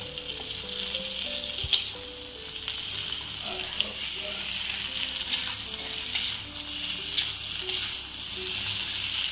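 Okra and tender coconut pieces frying in oil for a ladies finger stir-fry, giving a steady close sizzle with soft, irregular stirring scrapes and a couple of sharper knocks against the pan.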